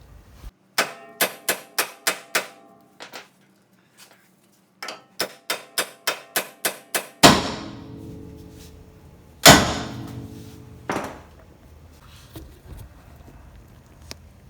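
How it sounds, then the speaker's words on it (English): A hammer strikes the ball joint on a Toyota Tacoma's front suspension to pop its tapered fit loose: two quick runs of sharp metallic taps, then a few heavier, ringing clangs spaced apart. "if you strike this with a hammer pretty hard, it changes the shape of the tapered fit between the two"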